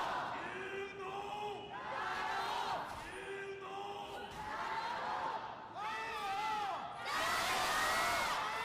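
A large crowd at an LPL League of Legends esports match roars and cheers continuously, with rising shouts and chant-like surges swelling louder toward the end.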